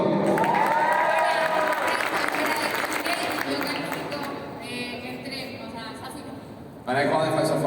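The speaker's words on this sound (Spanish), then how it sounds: "Dame un fuerte aplauso." Crowd applause and cheering at a mentoring session, loud and dense, with voices shouting over it; it eases in the middle before surging again near the end.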